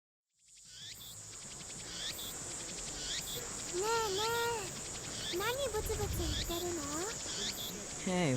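Cicadas or crickets shrill loudly in a Steins;Gate scene, a dense, continuous buzzing chorus with pulsing chirps and sweeping calls layered over it, rising in intensity after a brief silent start, with a voice speaking beneath.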